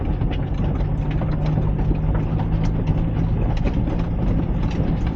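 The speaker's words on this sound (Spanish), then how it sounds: "y el coche sale nuevamente como un tiro" A 2025 Toyota Land Cruiser engine pulls away in permanent 4x4 on a muddy track, a steady low droning roar with continuous heavy rumble, close and loud, no talk over it.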